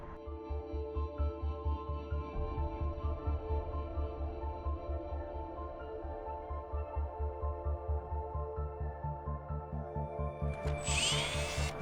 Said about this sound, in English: I'm just not very good at drilling locks.